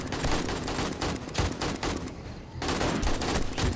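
Rapid, continuous automatic gunfire from the zombie survival game 7 Days to Die rattles on during a horde-night fight, loud and close, with a brief lull before resuming.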